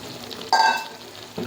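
Mutton and mushrooms sauté in a pan, where one close, ringing spatula scrape across the pan stands out over a low, soft sizzle, followed by a faint stir at the end.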